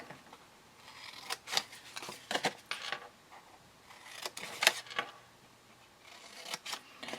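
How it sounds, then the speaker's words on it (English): Quiet, sharp snipping of scissors cutting cardstock up to a score line, a series of irregular crisp snips with short pauses between them. "so I'm going to take my scissors."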